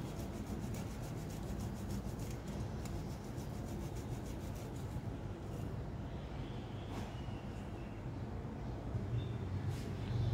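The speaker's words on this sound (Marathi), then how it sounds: "आपण हे असं सगळं किसून घेऊया पनीर" Paneer being grated by hand on a metal grater for mango kalakand, a steady, continuous close rasping scrape with no pauses and no talk.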